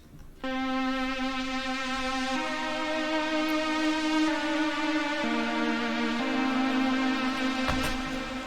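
A soft synthesizer pad holds sustained chords that shift smoothly every second or so, a steady, warm tone with no drums or voices.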